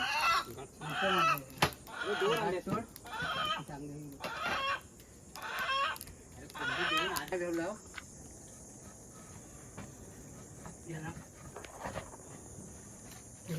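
Hens clucking and squawking close by amid background chatter, with insects buzzing steadily; the clucks come in bursts then fade to quieter calls.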